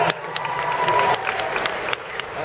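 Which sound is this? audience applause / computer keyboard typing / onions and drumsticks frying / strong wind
audience applause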